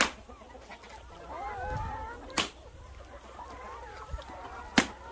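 A flock of chickens clucks softly at a moderate distance, with wavering calls rising and falling and two sharp, sudden knocks cutting through the low background.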